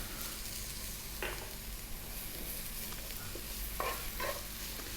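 Onion and garlic sizzle in a pan over medium-high heat, a steady close hiss with occasional stirring scrapes and small pops, quiet overall, no talk.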